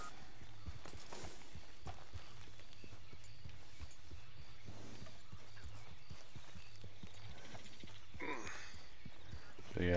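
Horse hooves clip-clop at a steady walking pace in the Red Dead Online video game, a soft rhythmic patter under low game ambience, with a brief whinny-like sound near the end.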